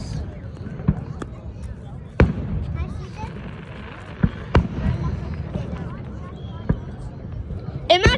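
Fourth of July fireworks popping at a distance, several sharp separate bangs spaced irregularly over a murmuring crowd with voices talking nearby.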